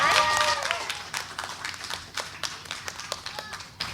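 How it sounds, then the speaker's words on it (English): Audience applause in a library event space, a dense burst of clapping that thins into scattered individual claps over several seconds. "Can we please have a round of applause for our favorite Baltimore library?"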